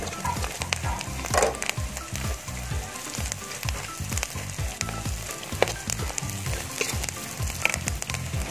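Green chillies and browned onions frying in a pan for chicken kofta, a steady loud sizzle with rhythmic stirring scrapes running throughout, no voices.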